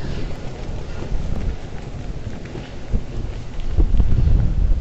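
Strong typhoon wind buffets the microphone at the Star Ferry Pier in Hong Kong, a continuous rough roar that surges louder toward the end, with no voices.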